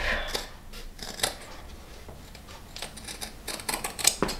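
Scissors snip away excess fabric beside a seam while a wallet is being sewn, giving a string of sharp, close cuts at an irregular pace over quiet room background.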